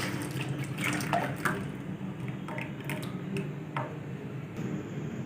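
Strained tomato paste pours into a kadhai on the stove, a quiet, soft liquid splatter with small drips and a light clink of metal near the end.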